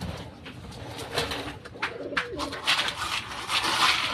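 Pigeons coo in soft, repeated calls while being fed outdoors, mixed with scattered pecking and flutter noises close by, with no talking.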